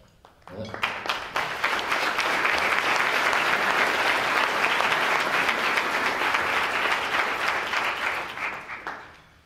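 An audience applauds during a State of the City address in Stamford. The clapping swells quickly and holds loud and dense for several seconds before tapering off at the end.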